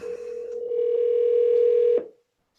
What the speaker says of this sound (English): I love this part when I call people back.